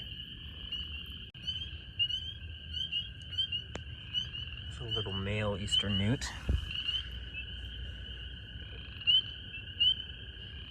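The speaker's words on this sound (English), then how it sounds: "That is a southern leopard frog." Southern leopard frogs call in an early spring chorus at a pond, a steady layered trilling and croaking that carries on throughout, with someone briefly speaking midway.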